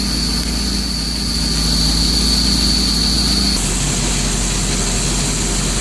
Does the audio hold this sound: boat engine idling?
yes